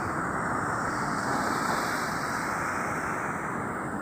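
Ocean waves break at a river mouth in a steady, wide roar of surf, with wind rushing across the microphone and no voices.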